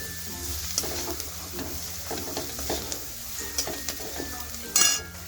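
Ginger, garlic and turmeric powder frying in a pan for a prawn chop, stirred with a utensil that scrapes and taps the pan over a steady soft sizzle, with one louder clatter near the end.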